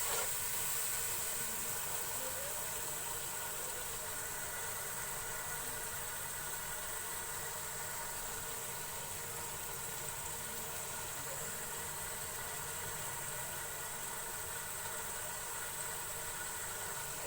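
Spices with crushed red chili and turmeric fry in a pan with a steady, quiet hiss and sizzle that continues unbroken and without talk.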